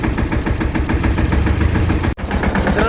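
A tractor engine runs steadily after being push-started on a farm, a continuous mid-pitched idling throb that holds loud throughout, broken only by one brief dropout near the end.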